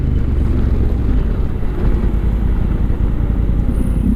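A motorcycle engine runs steadily at cruising speed with constant wind roar after the Kaoko cruise throttle control is released, a loud continuous drone with no pauses.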